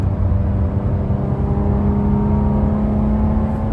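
A 9th-generation Honda Accord fitted with BC cams accelerates, giving a steady, loud engine drone with a sustained whir and rumble from inside the car and no talking.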